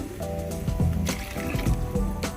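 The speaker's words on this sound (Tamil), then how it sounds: "ஒரு 5லேருந்து 10 நிமிஷம் வரைக்கும் நல்லா கொதிக்கட்டும்." Dry fish curry boils in a pot, close bubbling and soft wet plops popping irregularly over a low simmering background.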